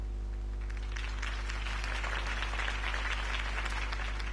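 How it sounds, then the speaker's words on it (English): A crowd applauds steadily for several seconds after a campaign speech in the video game Batman: The Telltale Series, a dense wash of clapping over a low electrical hum. "could have heard that applause"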